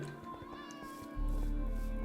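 A cat in the Minecraft video game meows over steady background game sound, with a louder low hum rising partway through.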